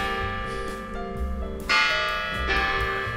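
Church bells ring out loudly in Idstein, Germany, overlapping bright metallic tones with new strikes swelling in and long ringing decays.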